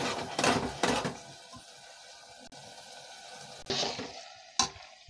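A spoon scrapes and clatters in a pan as almonds are roasted and stirred into carrot halwa. Close, scratchy strokes come in a few louder bursts, with a faint sizzle between them.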